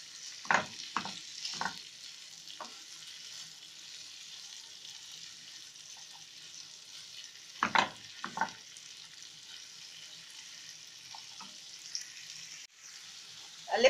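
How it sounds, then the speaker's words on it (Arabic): Ajwa dates are stirred in melted butter in a pan, a quiet steady sizzle under a handful of sharp spoon scrapes and clinks against the pan, heard close with no talk. "هقلب العجوة في الزبدة لحد ما تطرى خالص."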